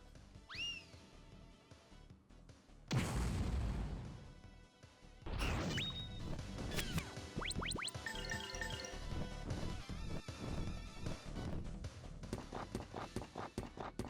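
Impact bomb explosion in Grandia 2: after a short whistling rise comes a loud crashing burst, then a second blast, and a long crackling, ringing tail of debris and sparkle effects with no voices.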